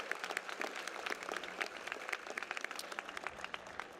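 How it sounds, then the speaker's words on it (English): Audience applause at a community college graduation ceremony: many hands clapping steadily in dense, even bursts for about four seconds, with no voices on top. "Let's give them all a round of applause to say thank you for all their support."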